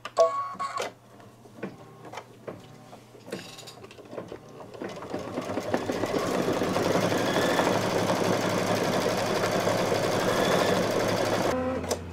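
A machine embroidery unit stitches a tack-down for Santa's beard on a table runner, starting with scattered clicks and taps, then settling into a loud, continuous rapid whirring that runs steadily before stopping abruptly.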